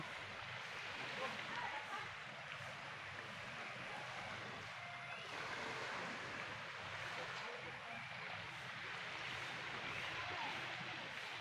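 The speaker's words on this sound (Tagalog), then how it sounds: "Ayan, ganda ng alon." Gentle waves on a calm sea off Barangay Togong, Banton, Romblon, within sight of Simara Island. They make a steady, continuous wash of soft surf with no distinct breaking crashes, moderately distant, with no other sounds.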